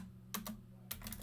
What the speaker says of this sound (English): We're going to type in route dash policy